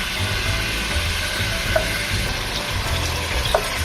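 Spicy garlic pork browns in a frying pan with a steady crackling sizzle, a low rumbling undertone and a couple of faint clinks, no talking.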